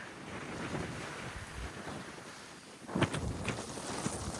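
Strong storm wind at a Tampa, Florida beach blows sand, roaring steadily with buffeting gusts against the microphone and surf in the background, swelling louder near the end.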